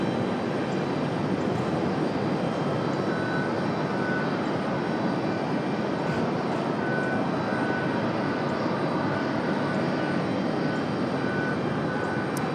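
A United airliner's jet engines roar steadily at Raleigh-Durham International Airport, a loud, continuous broadband rush that stays even throughout with no voices.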